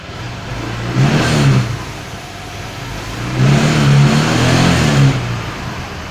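Honda PCX scooter engine idling, then revving up twice in two swelling bursts that settle back to a steady idle, close and fairly loud with no talking.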